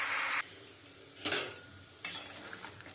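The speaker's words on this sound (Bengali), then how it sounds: "এবার সামান্য আমি জল দিয়ে দেবো" Water goes into a hot pan of pumpkin and shrimp with three short hissing sizzles, the first loud at the start, the others softer, amid faint clinks of a utensil.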